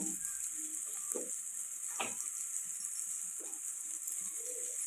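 Chili powder and masala fry in hot oil for egg biryani, giving a steady bright sizzle throughout, with a few soft scraping stirs and clinks of a spoon against the pan, near and alone.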